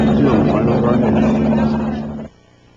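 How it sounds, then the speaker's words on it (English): Loud, steady engine and rotor roar fills the first two seconds before cutting off sharply, leaving quiet background. "A cameraman, apparently referring to the helicopters, comments that there are 2 of them right over our heads."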